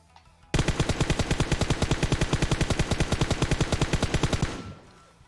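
Automatic gunfire in PUBG Mobile during a recoil test: one sustained burst of rapid, evenly spaced shots, loud and close, starting abruptly and running about four seconds before cutting off with a short fading tail.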